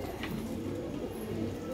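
Pigeons coo softly and continuously, a low murmuring throughout with no voices, among a flock kept including a white Madrasi pigeon.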